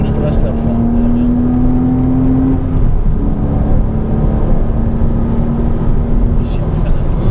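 A Porsche Cayman S accelerating at full throttle on a track at Grand Sambuc, its engine droning steadily and rising in pitch, under an instructor's voice.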